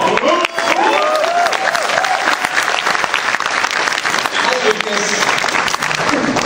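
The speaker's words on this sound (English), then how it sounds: "We deserve to be up on the stage to hear the applause you've given" Audience applause at a Batman: Arkham Origins panel at New York Comic Con, dense sustained clapping from a large crowd with a few cheers, loud and continuous throughout while talk is heard underneath.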